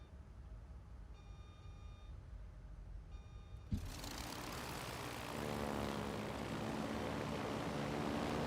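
Propeller aircraft engines drone steadily in a naval combat video game, a low continuous hum that swells louder after a sudden burst partway through and stays dense and sustained to the end, with no talking.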